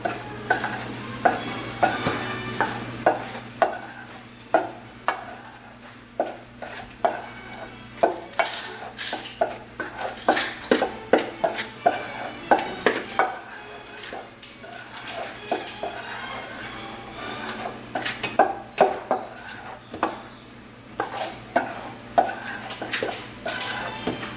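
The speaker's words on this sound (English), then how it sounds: "So let's go ahead and mix this up." Chocolate cupcake batter mixed with milk in a bowl, a steady run of scraping, knocking strokes of a utensil against the bowl, close and fairly loud, repeating in an uneven rhythm throughout with no talking.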